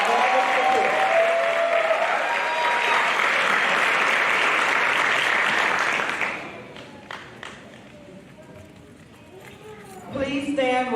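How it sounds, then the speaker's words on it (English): A round of applause at a high school senior graduation ceremony, a broad, loud wash of clapping lasting about six seconds before cutting off sharply into quieter room sound, with a voice returning at the end. "let's give another round of applause to thank Ms. Garber for her generous support"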